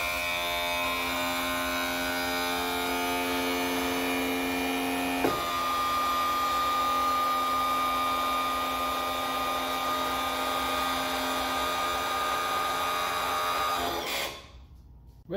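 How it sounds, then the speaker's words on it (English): A starter motor cranks a 90 HP Johnson outboard that has sat unused for over twelve years, giving a loud, steady whirring drone that shifts pitch partway through and stops abruptly near the end. "with the starter ignition kind of working"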